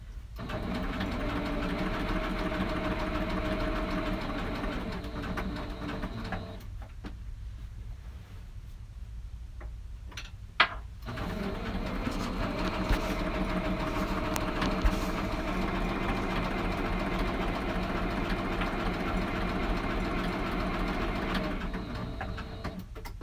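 A sewing machine stitches raw edge applique, running loud and steady with a dense mechanical whir, pausing briefly midway with a couple of clicks, then resuming its continuous hum.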